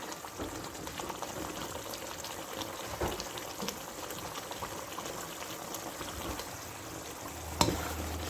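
Red chilli, turmeric and coriander spices frying in a pan for a potato and egg curry, a steady soft bubbling sizzle throughout with a brief clink near the end, no talking.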